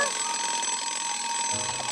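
A cartoon timer alarm rings loudly and continuously at close range, a shrill, steady electronic buzz that fills the whole moment.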